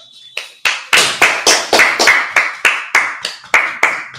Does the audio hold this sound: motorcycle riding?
no